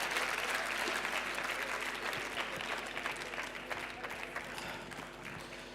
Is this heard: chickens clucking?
no